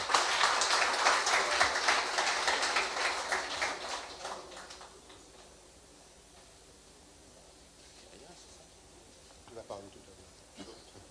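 Audience applause at a school business-prize ceremony, a dense burst of clapping for about five seconds that then fades away, leaving quiet room tone and a brief noise near the end.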